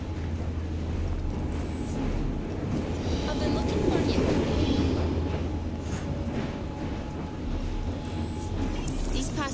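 A moving train in Assassin's Creed Syndicate, a steady, rumbling drone of wheels and carriage noise that holds constant and fills the scene throughout, with faint clatter on top.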